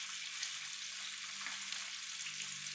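Chicken wings fry steadily in a pot, a continuous close sizzle and crackle filling the clip without pause, with a faint fork turning them over beneath the hiss.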